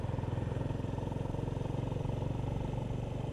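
A Honda GB350 S single-cylinder motorcycle pulls uphill in second gear with a steady, throbbing engine note, close and continuous, with no talk over it.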